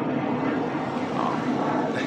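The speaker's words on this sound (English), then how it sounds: "Planes take off 24/7 here. All night long we can hear them leaving the Tijuana International Airport." Steady, broadband roar of an airplane taking off from Tijuana International Airport, a continuous rushing engine noise heard at moderate distance.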